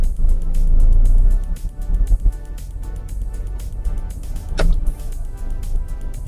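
A manual car creeps off slowly in low gear with a steady low engine drone and soft rumble, plus a brief higher whine partway through, recorded close from inside the cabin.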